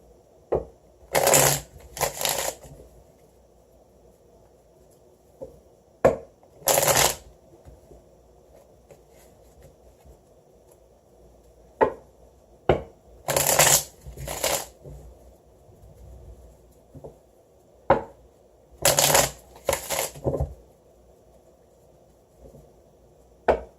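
Tarot cards are shuffled in short, loud, crisp bursts separated by quiet gaps, with a few isolated taps and clicks in between, close and dry.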